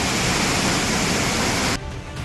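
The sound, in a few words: flooding river water rushing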